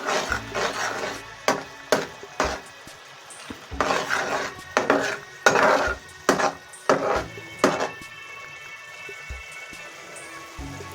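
Spoon stirring fish masala into a curry in a metal pot, with repeated scraping and clanking strokes in irregular bursts, close and fairly loud, with no talk.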